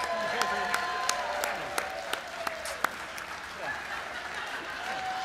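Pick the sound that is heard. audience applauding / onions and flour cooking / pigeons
audience applauding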